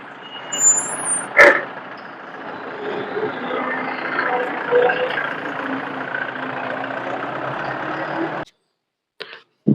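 A heavy truck drives slowly toward parking after unloading, its engine droning steadily with a sharp air-brake hiss early on, before cutting out near the end.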